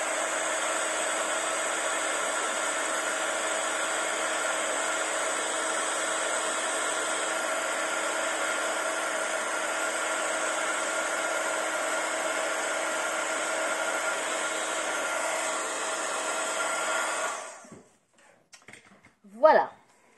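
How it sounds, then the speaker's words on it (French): A heat gun blows hot air in a steady, loud broadband whoosh for about seventeen seconds before switching off, followed by a few faint clicks and handling sounds. "je reprends mon pistolet à chauffer"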